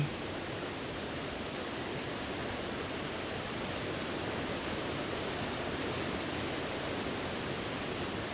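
Gwanchang waterfall on a mountainside pours in a dense, steady roar of falling water, constant and unbroken throughout with no voices.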